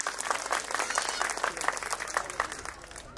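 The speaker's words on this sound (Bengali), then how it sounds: "আমি সবার উদ্দেশ্যে একটি জোরে করতালি দেওয়ার জন্য অনুরোধ করছি" An audience at a grand customer gathering event claps in a sustained, dense burst of applause from many hands. The clapping is moderately loud and rises and falls slightly over a few seconds.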